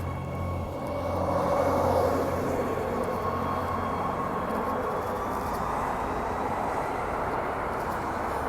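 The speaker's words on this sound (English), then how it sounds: "let's wait for the train to leave" A train leaving a station rumbles steadily nearby, a low continuous roar that swells briefly early on and then holds, with no speech.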